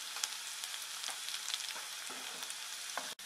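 Chopped garlic and green chili frying in oil in a kadhai, a steady bright sizzle with faint stirring clinks throughout, cut off abruptly at the end.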